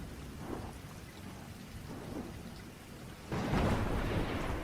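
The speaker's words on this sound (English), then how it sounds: "Rain lashed against the thin walls of the cabin, a relentless drumming that seemed to vibrate through my bones." Heavy rain drums steadily against a thin-walled cabin while thunder rumbles low, and the downpour swells suddenly louder for the final second or so; nobody speaks.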